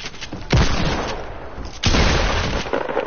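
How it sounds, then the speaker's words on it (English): Cannon fire in a multiplayer video game: two heavy booming blasts about a second apart, each followed by a dense roaring rumble, loud and close, with no speech over them. "Oh, cannons!"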